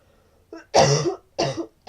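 Two short, close coughs, the first a bit longer and harsher, separated by a brief pause, with a small throat sound just before.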